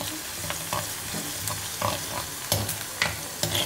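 Curry leaves hit a simmering fish curry with a steady sizzle, broken by repeated scraping stirs of a spoon through the pan at close range, with no voices.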